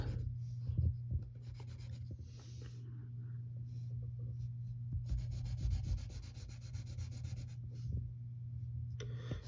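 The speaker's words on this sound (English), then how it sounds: "use the side of your pencil" Pencil shading on paper with the side of the graphite, soft continuous scratchy rubbing strokes in a quiet room, close and faint, with brief pauses between passes.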